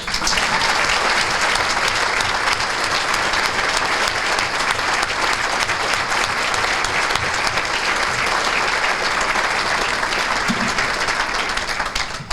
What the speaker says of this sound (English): I think you deserve another round of applause